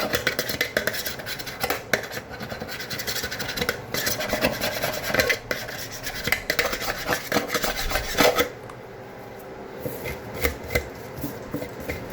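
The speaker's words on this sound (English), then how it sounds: "Just get rid of the old plumber's putty." Old plumber's putty being scraped off a sink around the strainer, a steady rasping, scratching metal-on-surface sound with clinks, close up and alone, easing off into a quieter patch of lighter scrapes near the end.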